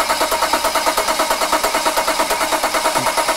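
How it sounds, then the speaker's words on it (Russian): A BMW 535i GT being cranked, the starter turning over in a fast, even rhythmic pulse, loud and close, without clearly catching into an idle. "Крутим, пока не заведется."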